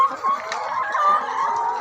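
Hens cluck and murmur in bamboo laying cages holding about ten birds, a steady close chorus of overlapping clucks with a brief crow-like note, no talking.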